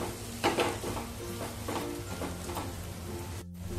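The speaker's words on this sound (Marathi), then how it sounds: "आता बटाटा घालूया आणि चांगलं हलवून घेऊया" Potato pieces are stirred and sautéed in a pan, giving faint sizzling with soft scraping strokes in a steady rhythm.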